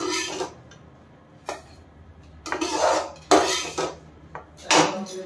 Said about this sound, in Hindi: गैस मैंने बंद कर दिया और सूजी को निकाल देते हैं